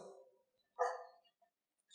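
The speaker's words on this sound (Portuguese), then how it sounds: "O cachorrinho está querendo ouvir a palavra de Deus aqui, né?" A small dog lets out a single short, moderately loud bark indoors, with a brief trailing vocal sound just before it and quiet afterwards.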